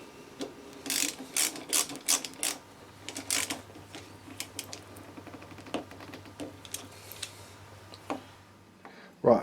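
A hand ratchet nips up the handlebar end bolt on a Honda CBR650F fitted with heated grips: quick runs of sharp, close clicks come in short bursts, with a faint low hum beneath part of it.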